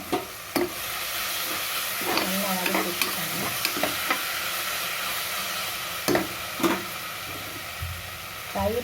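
Ginger-garlic paste sizzles and fries in a pan for chicken biryani, with a steady hiss broken by several scraping stirs of a spatula close by.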